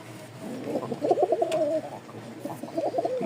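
Rajshahi Giribaz flying pigeons coo in a steady stream of soft, throaty calls, several birds overlapping at close range with no talk over them.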